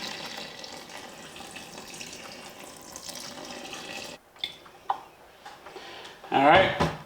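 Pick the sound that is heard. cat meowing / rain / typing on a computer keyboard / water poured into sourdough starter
water poured into sourdough starter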